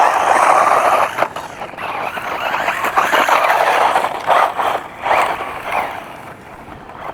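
A small, fast Hosim M13 RC car whines past, its electric motor rising and falling in a buzzing drone against heavy wind rumble outdoors, surging and fading as it moves nearer and farther away.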